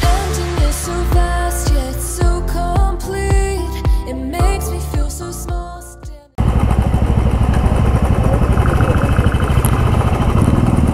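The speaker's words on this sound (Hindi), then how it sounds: "इस बाइक पे मैं पहली बार कसौली जा रहा हूँ।" A motorcycle rides along the highway toward Kasauli, its engine a loud steady drone through the second half, after music fills the first part.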